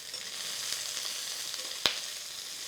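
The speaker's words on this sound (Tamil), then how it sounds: "1 துண்டு இஞ்சி, 2 பல்லு பூண்டு, வெங்காயம் எல்லாத்தையும் ஒரு வதக்கிடலாம்" Ginger, garlic and onion sauté in a hot pan with a steady, even sizzle, broken once by a sharp clack of a utensil against the pan.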